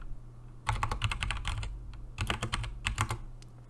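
Fingers tap quickly on a computer keyboard in two bursts of close, crisp keystrokes separated by a brief pause, with quiet room tone between.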